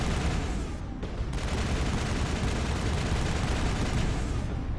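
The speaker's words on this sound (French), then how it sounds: "Moins que ce soit une autre tourelle qui nous tire dessus" Enemy turret fire in Mass Effect: a continuous roar of rapid gunfire and rumbling blasts, loud and sustained throughout with one brief dip, and no talk.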